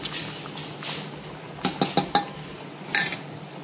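Onion and coconut paste going into a boiling pot, giving a few sharp metallic clinks and scrapes of a spoon against the pot over a soft bubbling background, with no talking.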